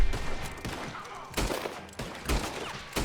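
Several loud pistol shots ring out at irregular intervals in the Red Dead Online video game, with sharp reports and echoing tails, mixed with game ambience and no speech.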